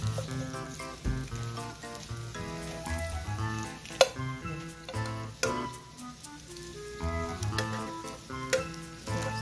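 Gomchwi herb pancake sizzling and crackling in an oiled frying pan, a busy close-up spatter over faint background music.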